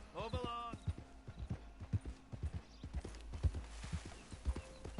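Hooves of a horse in the Red Dead Online video game clop steadily at a trot, loud and near, with a brief whinny at the start and low game ambience beneath.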